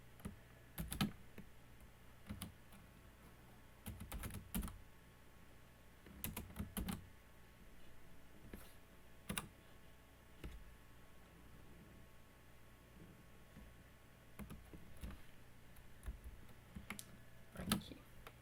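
Computer keyboard typing while entering an equation, a close, quiet patter of key clicks arriving in irregular bursts with short pauses between them.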